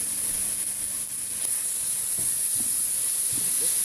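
Onions frying in a pan, a steady loud hiss with faint clinks and stirring scrapes near the end, no voices.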